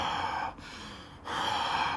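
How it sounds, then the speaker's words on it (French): A quick, deep breath drawn in through the mouth, close and airy, coming in two rushing pulls separated by a brief pause. "C'est une grande inspiration, assez rapide."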